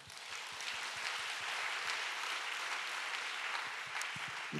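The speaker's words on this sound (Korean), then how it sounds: "박수해 주시기 바랍니다" A church congregation applauds during a Friday service, a steady crowd of clapping with distinct individual claps audible, sustained and even for several seconds without speech.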